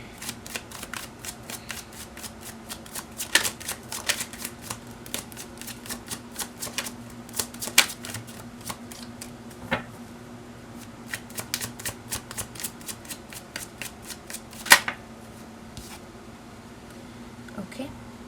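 Oracle cards shuffled by hand in a quiet room, a soft steady riffle punctuated by sharper slaps and taps as the deck is cut, faint and close.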